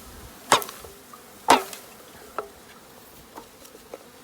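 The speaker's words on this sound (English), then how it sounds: "So I'm going to give these bees a shake." A low buzz of honey bees hums beneath a few sharp knocks and thumps as a package of bees is shaken into a hive, spaced about a second apart, the first two loudest.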